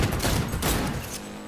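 Rapid gunfire bursts from the video game Cyberpunk 2077, loud and dense, crackling continuously through the whole stretch with overlapping shots and a brief lull near the end.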